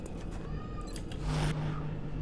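A pet cat meows indoors, a brief tonal call rising over a low steady background hum and faint game sounds, with no talking.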